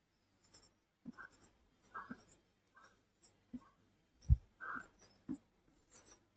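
Pen writing a graph equation by hand for a class-10 maths lesson: scattered soft scratches and taps on paper in short irregular bursts, close and quiet.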